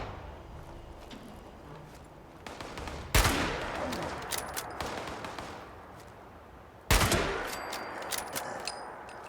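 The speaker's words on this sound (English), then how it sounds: "They're not firing at me. Who are they firing at?" Bursts of NPC gunfire in Fallout 76 on PC, rapid cracking shots scattered through the stretch with two loud nearby volleys standing out above a steady rumbling game ambience, no voices.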